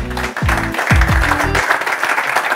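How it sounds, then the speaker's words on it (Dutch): An audience at a Dutch College Tour event applauds as the guest, a small-business lobbyist, is welcomed. Close, full applause runs under a short burst of music with clear sustained tones. "Geef hem een hartelijk applaus."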